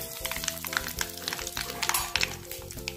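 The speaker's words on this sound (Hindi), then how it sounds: "इसे अच्छे से तड़कने देना है।" Spices tempering in hot oil with asafoetida for aloo paratha, a dense crackling sizzle close by with small popping bursts, under a steady background hum.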